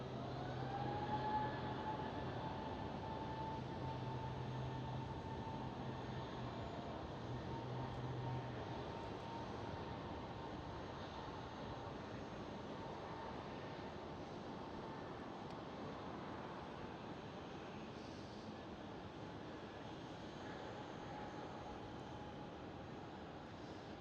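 An SAS airliner passes at Schiphol airport, its engines a faint, steady distant drone with a thin whine that slowly fades.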